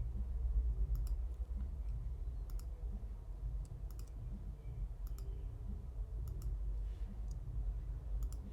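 Mouse clicks while drawing with the pen tool in Adobe Illustrator, sharp close double clicks at irregular intervals over a low background hum, with no talking.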